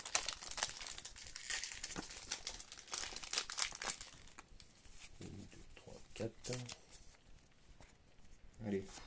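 Pokémon card booster pack wrapper from a Celebrations box being torn and crinkled open, a burst of crisp foil rustling and tearing in the first seconds, with people chatting in French close by.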